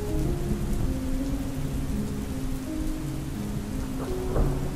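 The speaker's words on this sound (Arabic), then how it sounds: "الدنيا بدأت تمطر" Heavy rain falls in a street scene from an Egyptian film, a loud continuous downpour with low rumbling thunder underneath and occasional louder swells toward the end, no voices.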